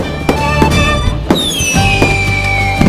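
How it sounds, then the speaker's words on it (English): Fireworks go off in a rapid series of sharp bangs and crackling bursts, some with a whistling streak, loud and close, with no voices. "Hundreds of fireworks were set off."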